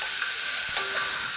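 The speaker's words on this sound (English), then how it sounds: "I've just put the bacon, and whatever fat came out of that bacon, I'm just frying these onions in" Onions frying in rendered bacon fat in a frying pan give a continuous bright sizzle and crackle, with a brief stirring scrape partway through, close and steady with no talking.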